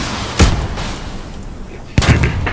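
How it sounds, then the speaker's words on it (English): Two loud rocket blasts in the video game Hell Let Loose, the first near the start and the second about a second and a half later, each a sharp boom with a rumbling tail. "We both shot our rockets at it."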